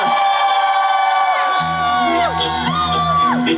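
Festival crowd at a winter trout festival concert cheers and whoops loudly over music as a trot song begins, with sustained tones sliding in pitch and a steady low beat entering midway.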